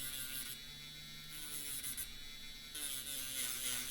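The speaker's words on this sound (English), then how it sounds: "Again, I'm using the Dremel." A Dremel rotary tool smoothing a squashed watch stem gives a steady, close, high-pitched whine whose pitch shifts slightly as it bears on the metal, running continuously with no talking.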